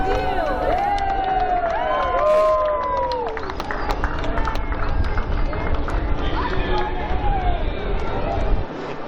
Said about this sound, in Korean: 요하네스버그의 시민들도 박수와 웃음으로 맞이해줍니다.